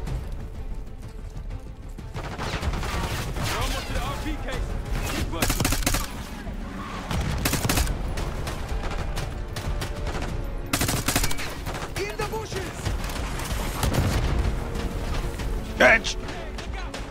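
Rapid bursts of video game gunfire, several sharp volleys with a brief high ping near the end, heard under a player's talk in a first-person shooter.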